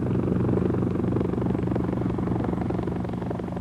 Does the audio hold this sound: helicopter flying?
yes